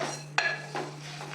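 Horse gram seeds roasting dry in a pan give off a few sharp, isolated pops, about three spaced bursts over a low steady hum.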